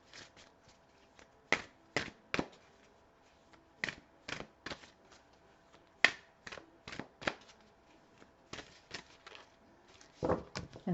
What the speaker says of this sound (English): let's pull some cards here and see what needs to be brought out